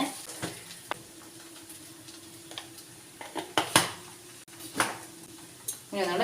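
A masala chapati is turned and pressed in a pan, with intermittent metallic clinks and scrapes of utensil on pan over a faint sizzle and an occasional soft voice.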